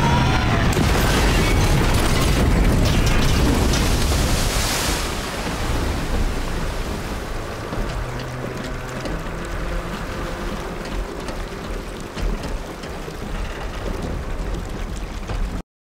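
A loud roaring crash of a plane into water with heavy rumble and rushing spray that slowly settles into churning, splashing turbulence. No voices.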